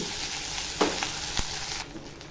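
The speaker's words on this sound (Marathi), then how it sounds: "आता फास्ट गॅसवर चांगल्या ह्या भाताला मी परतून घेते" Cooked rice with cumin and green chillies is stir-fried over high heat for jeera rice, a loud continuous sizzle with a couple of spatula knocks against the pan before the frying noise drops off abruptly.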